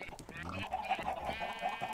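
Sheep bleating in a barn in the Minecraft modpack Tekkit Lite, with several overlapping bleats mixed with other livestock cries. The sounds are fairly close and continuous, and nobody talks.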